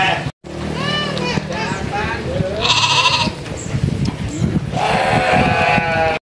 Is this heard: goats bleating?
yes